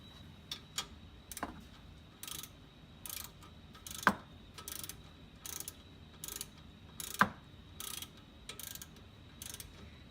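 Ratchet wrench tightening the caliper pin screw on a Ford F150 front brake, a close series of quick clicking bursts with a couple of sharper metallic ticks, no talk.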